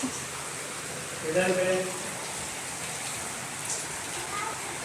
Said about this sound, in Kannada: ಸಡನ್ನಾಗಿ ಬಂದಿದೆ ಮಳೆ ಆ್ಯಕ್ಚುಲಿ ಇವಾಗ